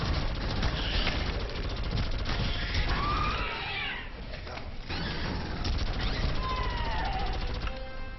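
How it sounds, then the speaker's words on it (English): Suppressed gunfire in the video game Aliens: Colonial Marines, with rapid bursts of muffled shots over dense, continuous game sound effects that stay steady and loud throughout. "This thing sounds beast with a suppressor."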